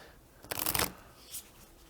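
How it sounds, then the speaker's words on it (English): A deck of playing cards for the board game Sojourn is shuffled once in a quick riffle of rapid fluttering flicks lasting under half a second, followed by a faint single tap, close and quiet. "So here I am shuffling here."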